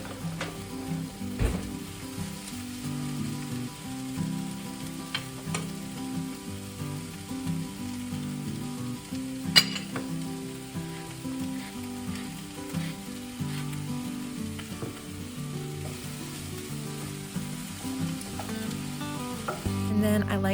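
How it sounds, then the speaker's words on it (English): Homemade chicken burgers fry in a pan until golden brown, giving a steady, close sizzle with occasional crackles and light stirring clicks throughout, and no one speaking. "you just put it in the frying pan and cook them up until they are golden brown on each side"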